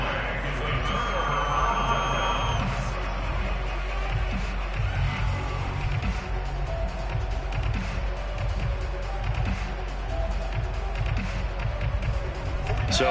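A football stadium crowd roars and cheers in a steady, dense wash throughout, heard beneath a commentator talking over the game.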